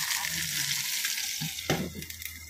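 Milkfish pieces coated in flour and cornstarch sizzle loudly in hot oil, a dense bright crackle with a few stirring clinks near the end.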